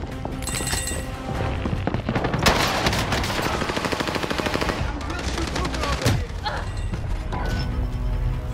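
Dense automatic gunfire and explosions in Call of Duty Modern Warfare, with rapid rattling bursts and occasional heavy impacts, loud and continuous, while a player talks over it.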